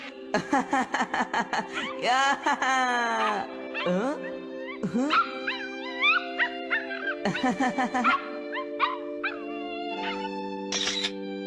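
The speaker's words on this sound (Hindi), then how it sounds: "अभी मैंने एक डॉग की आवाज सुनी।" A small cartoon dog yips, whimpers and howls in high, wavering cries, repeated in bursts over a sustained tonal background, loud and close.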